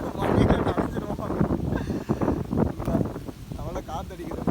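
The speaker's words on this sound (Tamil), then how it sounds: "அவ்வளோ காற்றடிக்குது." Strong gusty wind buffets the microphone outdoors in a village, producing a loud, uneven roar that swells and dips throughout while a person talks over it.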